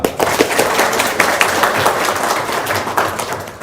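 A crowd breaks into brisk clapping, with dense, close applause and sharp individual claps running throughout the short burst.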